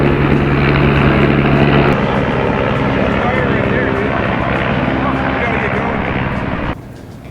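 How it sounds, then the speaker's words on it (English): A big red life flight fire department helicopter makes a quick pass directly overhead, a loud, steady rotor and engine roar that fills the whole stretch before dropping off sharply near the end. "There is a life flight helicopter, the fire department type, that did do a quick pass directly over the top of us"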